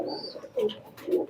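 Imported pigeons coo close by in soft, low, rolling calls, two or three in a row, with a faint thin whistle overhead and no talking.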